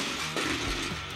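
A Sphero Ollie robot drives on carpet with a continuous whirring, gear-like motor buzz, close and steady for its whole length.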